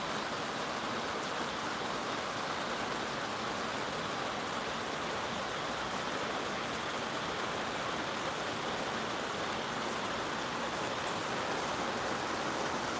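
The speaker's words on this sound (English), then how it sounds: "just let it record the rain as a live stream for anybody that wants to keep watching" Steady rain falling outdoors, a dense even hiss that continues unchanged throughout, with no voices.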